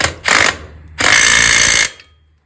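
A power impact driver drives a bolt home during crawlspace work: a short loud hammering burst, then a longer sustained rattling burst, each stopping abruptly before a quiet tail.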